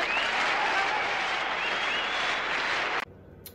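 Loud, steady applause from a crowd fills the first three seconds, a dense wash of clapping that cuts off abruptly into near silence.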